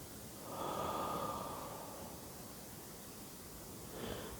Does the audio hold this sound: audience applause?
no